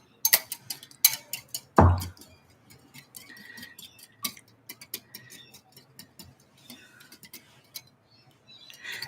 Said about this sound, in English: eggs beaten. I'm just gonna whisk them